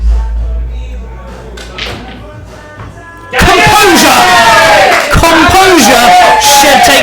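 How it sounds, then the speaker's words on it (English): A darts crowd roars and chants for the player Shed, a sudden loud surge of massed voices after a quieter stretch of murmuring, with a commentator talking over it. "Crowd really getting behind Shed in this leg."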